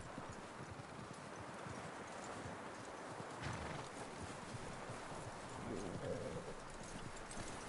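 Horse hooves clip-clop faintly on the ground in the open-world western game Red Dead Redemption 2, a quiet, steady plodding under a low ambient bed with occasional faint bird calls.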